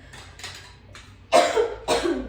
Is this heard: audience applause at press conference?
no